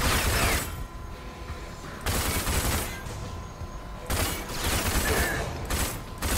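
Rapid bursts of gunfire from the video game Rage, in a power plant level, loud and dense bursts repeating every couple of seconds with brief quieter gaps between volleys.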